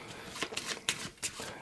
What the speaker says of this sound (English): let me shuffle her deck. I'm terrible at shuffling